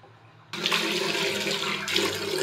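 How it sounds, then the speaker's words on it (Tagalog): Water gushes out of a household pipe during a DIY plumbing repair, starting abruptly as a loud, steady rushing stream that keeps running close by, with no one speaking. "Dito siya lumalabas yung tubig dito."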